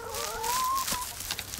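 Backyard hens near a compost heap give a short rising and falling cluck-like call up close, followed by faint scratching and rustling noises.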